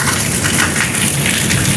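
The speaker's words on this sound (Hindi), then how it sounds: "हाँ जी तो बारिश फिर दोबारा शुरू हो गई है" Heavy rain mixed with small hailstones falls steadily outdoors over a village, making a dense, loud, unbroken hiss of drops close by. No voices are heard.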